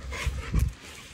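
A dog on a leash pants and huffs close by in a couple of short breathy bursts, outdoors with no talking.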